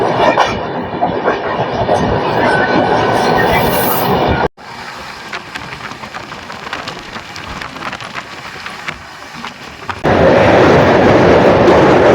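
Samaleswari Express pulling into Hirakud station platform two after the run from Howrah, a loud continuous rumble and rushing noise that suddenly drops lower midway, then swells again toward the end.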